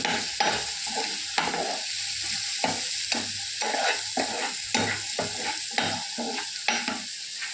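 Masala sautéing in a pan, a steady close sizzle broken by regular scraping stirs roughly every half second, alone without talk.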